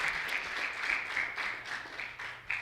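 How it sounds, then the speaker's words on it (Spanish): A church congregation applauds together during a worship service, a steady wash of clapping at moderate distance that rises and falls in waves without pause. "Demos un fuerte aplauso al Señor Jesucristo."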